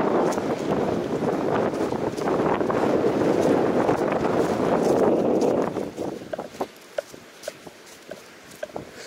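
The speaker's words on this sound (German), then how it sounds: "hier ist echt Sturm, hier ist richtig Wind" Strong stormy wind blowing across the edge of a field, a loud, dense roar buffeting the microphone for about six seconds, then dropping away to quieter gusts with scattered light taps.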